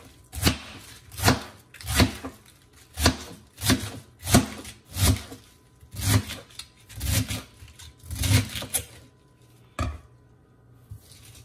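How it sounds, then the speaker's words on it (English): A knife chopping cabbage and sausage on a board in steady, evenly spaced thuds, about one per second, loud and close, with no talking. "Slightly chop them up."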